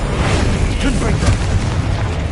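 A Confringo fire spell detonates in Hogwarts Legacy with a deep, sustained booming rumble that stays loud throughout, with a voice briefly heard over it.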